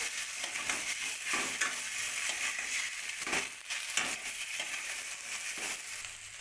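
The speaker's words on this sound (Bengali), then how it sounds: "আলু দেওয়া হয়ে গেছে একটু নাড়বো ভালো করে" Potatoes and soybean chunks frying in a pan with lemon sauce, stirred steadily for a vegetarian rice dish; a close, continuous sizzle with repeated scraping and crushing strokes of the spoon throughout, no talking.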